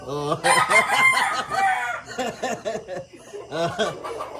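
A pure super brown red gamefowl rooster crows loudly and close, with one long drawn-out crow followed by shorter broken calls and clucks.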